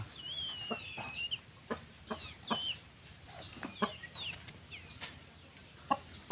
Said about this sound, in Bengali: ওই যে আমার ডাক পাখির বাচ্চা